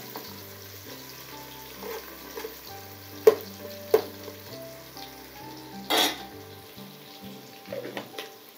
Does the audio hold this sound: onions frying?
yes